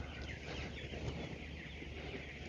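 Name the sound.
chicks cheeping while being moved to pasture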